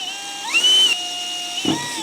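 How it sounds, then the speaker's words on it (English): A power drill bores a pilot hole into a truck bed, its whine rising sharply in pitch, holding steady briefly, then dropping away before a short final burst. "We'll drill a pilot hole."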